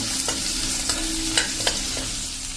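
Onions stirred and fried in a pan over a slow-to-medium flame for an onion capsicum curry, with a steady close sizzle and a few sharp scrapes of the spoon against the pan.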